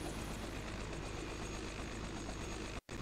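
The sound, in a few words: helicopter in the video game Flight Simulator 2020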